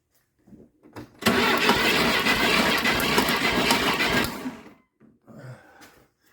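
An engine is cranked during a compression test while its belts turn, heard as one sustained, loud cranking burst of about three seconds, with quieter mechanical clicks before and after.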